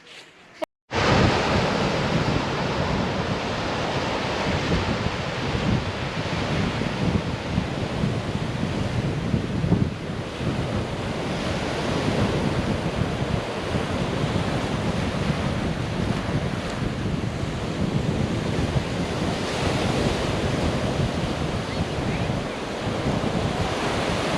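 Ocean waves breaking on a beach at Cape York, a continuous rolling wash of surf with wind buffeting the microphone, steady and fairly loud throughout.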